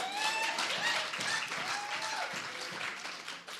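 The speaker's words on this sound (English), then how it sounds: "I think you must give that a round of applause." A steady wash of applause fills the whole stretch, dense clapping with a few faint whistles and cheers riding over it.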